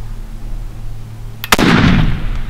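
A single sharp rifle shot at an elk during a hunt in Utah cracks loud and close over a steady hum, followed by a booming rolling echo.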